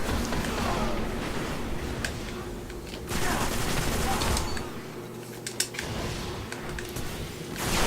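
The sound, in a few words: machine gun fire in the video game Halo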